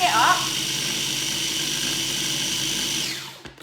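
A blender whizzes wild garlic leaves for pesto, a loud high-pitched motor whine holding steady for about three seconds before spinning down and stopping, with brief clatter at the end.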